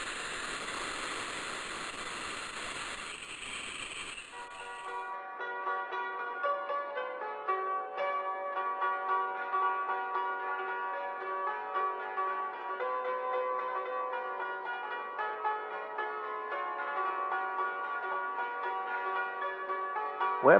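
Steady bright chiming of bells rings out continuously and fairly loud, layered tones sustained throughout after a brief burst of noisy rumble at the start, with no voices.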